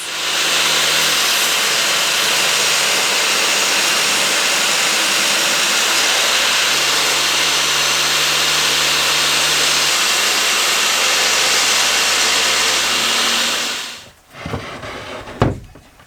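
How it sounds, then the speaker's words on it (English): Close and loud, a table saw in a van build workshop runs with a continuous broadband roar while it cuts a cabinet piece, holding steady for about fourteen seconds before it winds down and some clunking handling noises follow. "I'll do it on the table saw."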